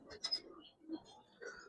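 Giribaz pigeons in a loft, with soft, low cooing murmurs and a few brighter chirpy calls in brief separate bursts, faint and close, surrounded by near silence.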